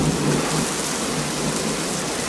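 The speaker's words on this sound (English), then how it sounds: "It's pelting rain." Heavy rain pelting down during a thunderstorm, a dense, loud, continuous roar of drops striking surfaces with steady intensity throughout and no voices.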